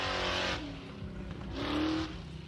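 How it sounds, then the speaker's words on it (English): A Ford Fox body at a drift event test and tune, engine revving in two rising pulls with a rasping exhaust, moderately distant. "Oh, you can hear that thing. Definitely a Ford in that thing."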